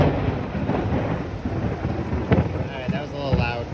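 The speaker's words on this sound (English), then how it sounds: "Okay, that was lightning." A loud, close clap of thunder rolls and rumbles over steady rain, with a few sharper cracks near the end.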